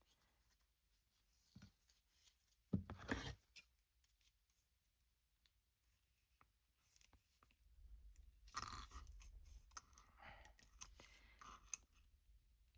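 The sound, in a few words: scissors cutting off journal cover scraps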